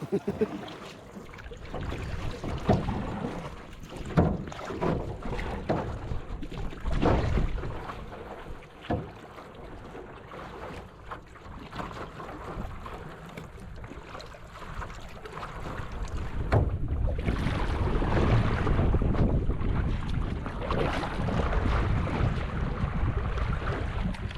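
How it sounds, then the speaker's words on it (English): See-through kayak paddled in wind off a Thai island, with gusty wind rumble on the microphone, water sloshing and intermittent paddle splashes, the wind noise swelling louder toward the end. "we'll just go for a little paddle and see where the world and the wind takes us"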